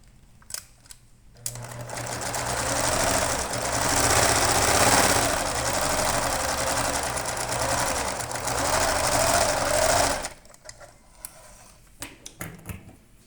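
A sewing machine runs steadily for about eight seconds, stitching a seam on small doll clothes for a bunny couple, its rapid mechanical whir close and continuous, with brief clicks and handling before and after.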